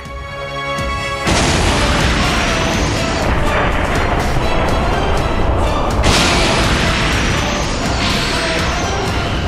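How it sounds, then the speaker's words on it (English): A spaceship opens fire in an animated fight, a sudden roaring barrage of blasts and explosions that starts after a quiet moment and stays loud and continuous, with a second crash surging in midway. "When the ship opens fire on the gang."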